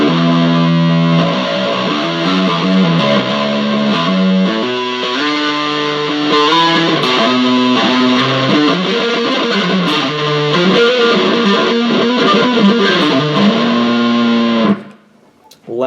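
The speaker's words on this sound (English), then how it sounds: "Then the core, which cuts the mid-range of the distortion." Electric bass through a Boss ME-70 multi-effects unit on its core distortion setting, mid-range scooped, playing a loud continuous riff of shifting notes alone before cutting off abruptly near the end.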